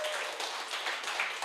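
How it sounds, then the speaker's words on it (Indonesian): Applause from a studio audience on an Indonesian football talk show, a steady broadband patter of clapping filling the short moment at moderate level with no speech over it. "boleh tepuk tangan."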